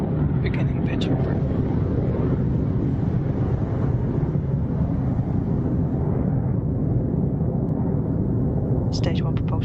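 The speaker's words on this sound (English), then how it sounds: "Successful liftoff for Electron from Launch Complex 1, rising and shining and on its way to space" An Electron rocket lifts off from Rocket Lab's Launch Complex 1 with a loud, continuous low roar that stays heavy throughout, while a voice talks over it.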